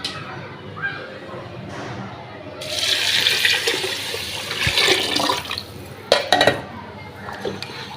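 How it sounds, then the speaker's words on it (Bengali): Water is poured into a metal pot of khichuri rice and lentils, a rushing, splashing pour that swells in the middle, with a few clanks of the pot near the end. "এখন আমি দিয়ে দেবো পানি।"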